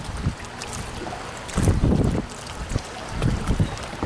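Wind blowing over open water on a fishing trip from a boat, buffeting the microphone in rough gusts, with low rumbling surges and splashy bursts that swell and fade.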